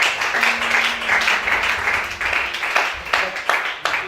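A church congregation applauds for the leader, a dense sustained clapping from many hands, loud and close, with voices mixed in.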